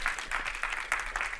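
Audience applause from a crowd at a Claremont alumni talk, a steady wash of clapping with soft rhythmic bursts, moderately distant and fairly quiet, with no talk over it.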